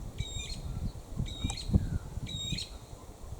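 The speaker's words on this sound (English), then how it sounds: "I think it's a red-rumped parrot." Red-rumped parrot calling with three evenly spaced, bright double-note chirps, fairly close, over low rustling and handling noise.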